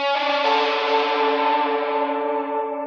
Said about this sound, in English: We're going to smear it in an unbelievable amount of reverb and delay